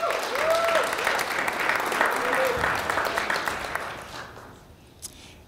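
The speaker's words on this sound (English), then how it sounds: "Let's give him a big round of applause" Audience applause at a startup pitch competition final, loud dense clapping with some voices mixed in, gradually fading out toward the end.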